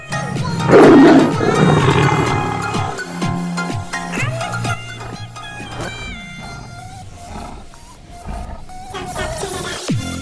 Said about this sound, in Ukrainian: тигр.